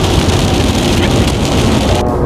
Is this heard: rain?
yes